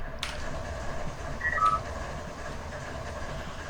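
Low rumbling roll of a freight train in the Run 8 train simulator video game, steady and continuous with a couple of faint metallic clicks and a short squeal partway through.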